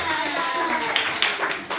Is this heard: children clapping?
yes